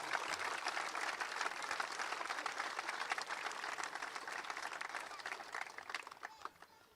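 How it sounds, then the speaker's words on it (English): Applause for the Surfers Paradise football club at a grand final presentation, a steady crowd clapping that holds for several seconds and then fades near the end. "can we have a bigger round of applause for surfers?"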